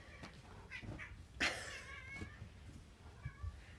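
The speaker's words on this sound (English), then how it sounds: "And my cats are fighting." Domestic cats fighting indoors, with a sharp loud yowl and several shorter meows and growling caterwauls spread across a few seconds, fairly close.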